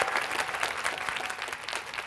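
Audience applause fills a lecture hall during a Korean talk show lecture, a dense, steady wash of clapping hands at close range that holds evenly throughout with no voices over it.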